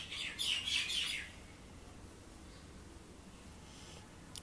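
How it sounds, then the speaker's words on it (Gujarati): Birds chirp in a dense burst of bright, rapid tweets lasting about a second, then fade, leaving faint background hiss with a few distant calls. "પક્ષીઓનો કલરવ ઇગ્નોર કરવો."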